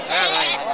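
Native goats bleat at a busy goat market, a loud wavering cry lasting under a second amid crowd noise.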